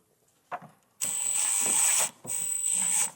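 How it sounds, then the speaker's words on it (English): A ratchet with a 12mm socket spins off plastic nuts near the spare tire of a 2018 Toyota Highlander, giving a single click followed by two close, sustained runs of rapid clicking with a brief pause between, with no speech. "we have 2 plastic nuts that we'll use a 12mm socket to remove."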